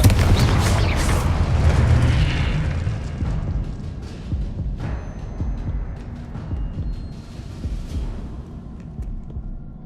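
A loud Confringo blasting spell explosion in Hogwarts Legacy booms at the start, followed by a long rumbling decay with scattered debris crackles as it fades.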